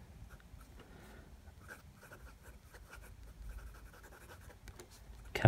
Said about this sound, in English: just a quick writing sample, because this is a, as I said, a right foot medium oblique nib